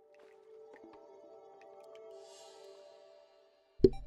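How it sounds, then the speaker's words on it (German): A single loud, close sneeze bursts out suddenly after a brief hush, cutting across soft, steady Terraria game music. "Immer wenn ich Terraria spiele in letzter Zeit, muss ich niesen."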